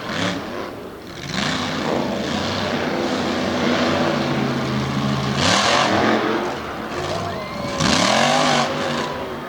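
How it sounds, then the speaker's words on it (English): Big Ram monster dump truck engine roaring and revving at a Lake Erie Speedway monster truck show, loud and sustained with rising surges, a commentator's voice running over it. "Big Ram dump truck cutting loose"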